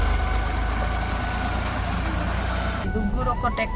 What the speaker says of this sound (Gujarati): ટ્રેક્ટરમાં ચાલ્યા હવે અનાજ લઈને.